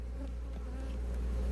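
Honey bees buzz in a low, continuous drone at an outdoor apiary, a close hum of many insects without speech.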